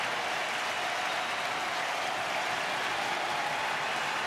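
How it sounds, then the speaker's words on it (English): A baseball crowd stands and cheers with a 1-2 count in a Detroit Tigers at Chicago Cubs game: a continuous broad roar of applause and voices fills the ballpark, steady and sustained throughout. "Crowd on their feet."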